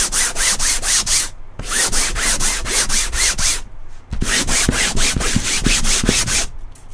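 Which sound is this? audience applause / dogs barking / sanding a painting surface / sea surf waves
sanding a painting surface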